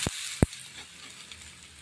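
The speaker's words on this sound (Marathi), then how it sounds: "आता तव्यामध्ये थालीपीठ सोडलेलं आहे." Thalipeeth frying in oil on a griddle, giving a steady close hiss of sizzling with two sharp knocks near the start.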